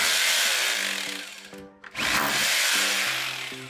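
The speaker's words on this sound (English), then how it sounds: "I'm gonna drill 1/2 inch holes now to these" Loud whine of a power drill boring 1/2 inch holes for mounting a TV on a backyard patio, running continuously with a brief pause midway before spinning up again.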